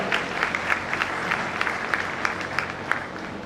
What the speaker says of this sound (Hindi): मैं चाहता हूं एक बार बहुत सभी लोग मिलकर जोरदार ताली हमारे बच्चों के लिए बजाएं।